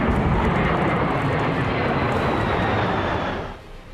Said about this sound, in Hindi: अमेरिका का B-1B लॉन्चर ऐसा विमान है जो किसी देश को अपने दम पर ही तबाह कर सकता है।